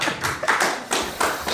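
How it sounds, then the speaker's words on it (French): The audience at a Peruvian chef's cooking masterclass, held at a seafood festival, claps in a brief, close burst of applause. "On applaudit."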